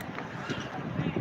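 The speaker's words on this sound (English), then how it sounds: "Ooh, we're windy, another wind burst. That's a big old wind burst." Gusty outdoor wind buffets the microphone in a steady broadband roar that swells slightly midway, with no voices heard.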